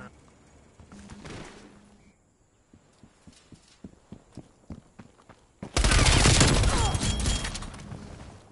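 An MP5 submachine gun fires in Call of Duty: a few scattered shots, then a run of quick, sharp bursts, and finally a loud, dense roar of sustained automatic gunfire close by.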